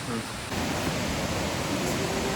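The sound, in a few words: waterfall near living root bridge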